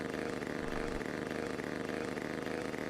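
A vehicle engine idles steadily in Finnish Cottage Simulator, a low even drone with a faint rhythmic pulse, quiet and unbroken throughout.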